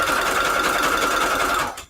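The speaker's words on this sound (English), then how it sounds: "this sewing machine, it needs to get oiled. I can hear it. Like this very faint grinding sound" A sewing machine in need of oiling runs at a steady high whir with a faint grinding edge, close and loud, then stops just before the end.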